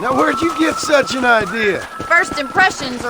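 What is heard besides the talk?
None of the usual background noises is heard.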